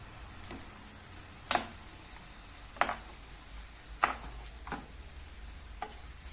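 Chard sautéing in a pan being stirred and turned, about six soft scraping strokes at irregular intervals over a quiet, steady background sizzle, with no talk.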